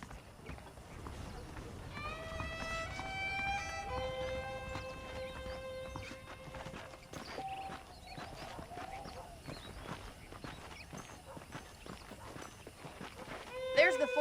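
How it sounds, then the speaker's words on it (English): Saddled horses clip-clop steadily in the western game Red Dead Redemption, with soft hoof beats continuing under a character's speech and faint ambient sound. "The horses are saddled up over here."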